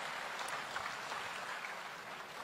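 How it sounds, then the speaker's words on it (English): Steady, fairly faint applause from an audience at a eulogy event for Otunba Femi Pedro, a continuous even wash of clapping throughout with no pauses. "Another round of applause, please"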